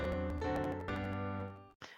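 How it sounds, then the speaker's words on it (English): A brief snippet of a song played from a digital Boom Cards deck: tonal music runs for under two seconds, then cuts off abruptly, followed by a short burst of noise. "Let me click and you can hear part of a song."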